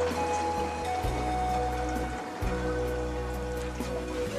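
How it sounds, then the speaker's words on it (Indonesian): Steady hiss of a water mixture being sprayed from a filled tank into a dry catfish pond, continuous and close, with a low pump-like drone underneath and no voices. "kita akan menyemprotkan campuran ton ke dalam kolam"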